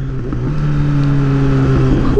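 A Kawasaki Z900 superbike engine while riding, a loud, close, steady drone whose pitch climbs gradually as the bike pulls ahead.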